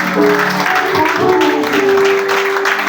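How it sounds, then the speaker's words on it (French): A church congregation claps through a French-language service, a steady, fairly loud patter of many hands with voices and sustained tones mixed in underneath. "Acclamation pour le Seigneur."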